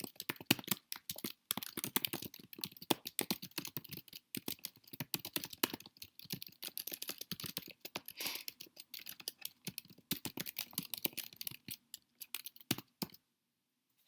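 Steady typing on a computer keyboard while a reply message is written: rapid, close, fairly quiet key clicks in an irregular patter, ending in a brief silence.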